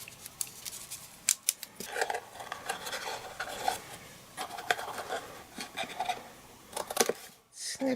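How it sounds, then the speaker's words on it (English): Scissors snip ribbon for a card's flag end in a crafting session, a run of quick, close, crisp cuts and light rustling, with a few distinct sharp snips and no talk. "Snip it in the middle"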